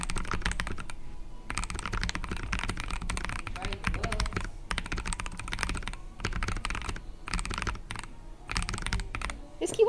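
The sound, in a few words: typing on KBD67 Lite R3 mechanical keyboard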